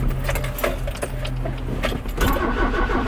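A car engine cranks steadily without catching while being jump-started from a Ford truck, the starter churning loudly and continuously at close range with rhythmic pulses.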